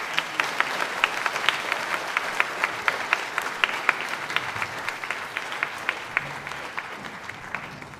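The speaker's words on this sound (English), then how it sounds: "Give the seniors another round of applause." An audience at a band concert applauds the seniors with steady, dense clapping that holds for several seconds, heard from within the crowd and moderately loud, with no talk over it.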